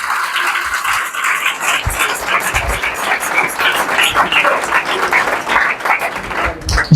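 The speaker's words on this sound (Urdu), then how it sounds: "اس کے لیے زوردار تالیاں بجا دیں۔" Loud, sustained applause from a church congregation at a Palm Sunday service, many hands clapping steadily and densely throughout without a break.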